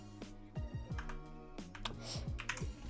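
Computer keyboard keys tapped in a quick, uneven run while a nickname is typed into the PKHeX Pokémon editor, with soft, close clicks over faint descending electronic tones and no talking.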